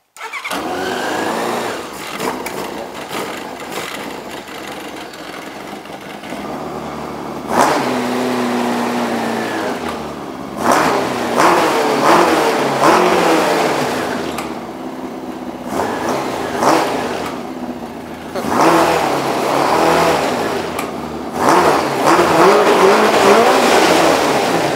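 Four-cylinder engine of a Yamaha RX-1 snowmobile cranking and firing up, then revved repeatedly in sharp bursts that rise and fall, loud and close with a rough idle between blips.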